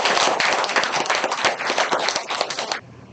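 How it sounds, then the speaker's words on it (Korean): An audience at a regional social economy forum in Korea claps enthusiastically for a few seconds, dense and steady, then the clapping stops abruptly. "뜨거운 박수 한번 부탁드립니다"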